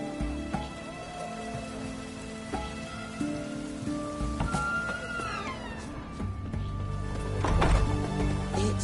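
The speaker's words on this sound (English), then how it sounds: "Looks like rain." Steady rain falls in the Witcher 3 game world, a continuous patter of drops on surfaces, with a swelling low rumble near the end that suggests distant thunder.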